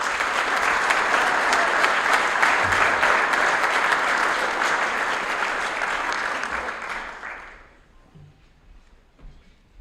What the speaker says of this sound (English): Round of applause for the Scholar Athletes.